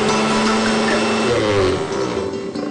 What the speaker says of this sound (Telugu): మెత్తగా మిక్సీ చేసుకోవాలి